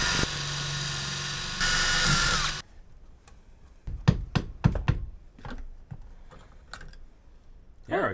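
A power drill whines loudly for about two and a half seconds, drilling out the emission safety screws on a cheap, worn motorcycle, then gives way to quieter clicks and scraping taps.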